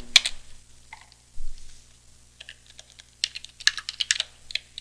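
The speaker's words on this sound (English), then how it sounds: "Type in your password." Someone types a password on a computer keyboard during a Linux terminal session, with irregular bursts of quick, close key clicks separated by short pauses and no speech.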